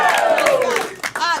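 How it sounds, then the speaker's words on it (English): Comedy club audience at First Coast Comedy letting out loud whoops and cheers, with a dense crowd roar and some scattered clapping underneath, continuous throughout. "the crowd goes wild"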